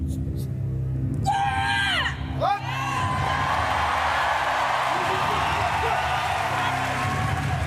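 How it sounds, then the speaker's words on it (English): Loud crowd at the Paris Paralympic powerlifting screaming, whooping and cheering with rising yells around a world record lift, a dense sustained roar that never drops off. "Encouraged by the crowd in Paris."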